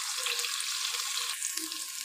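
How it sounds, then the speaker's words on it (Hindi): Onions fry in oil in a pan with a steady, bright sizzle, close up and continuous, with a brief stirring shuffle partway through. "तो बस जल्दी से हम इसको फ्राई करते हैं।"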